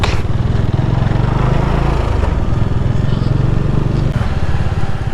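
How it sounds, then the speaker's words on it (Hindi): A motorcycle engine drones loudly and steadily nearby, with rumbling and rattling as the bike rolls over a wooden bridge. "लकड़ी का ये पुल, और इस पुल से गुजरती मेरी बाइक।"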